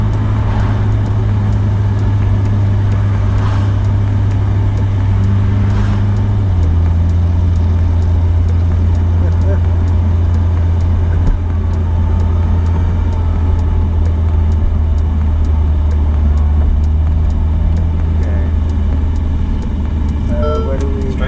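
A Ferrari F8 Spider drives along a road, its engine giving a low, steady drone that steps down in pitch partway through as it shifts, with people talking inside the car over the hum.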